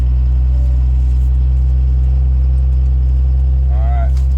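A car with a full manual valve body automatic transmission idles steadily with a deep, constant engine hum, a brief rising whine near the end, and a voice speaking over it.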